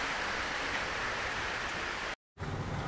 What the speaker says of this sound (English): it's just a light rain not too bad